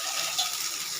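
Water poured into a cooking pan holding mustard paste, a steady close splashing pour with a brief surge partway through, no talking.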